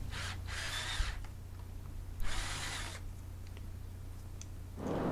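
A power drill bores a series of holes into wood while a custom rear bike light is being built, giving three separate whirring bursts near and loud, with no talking.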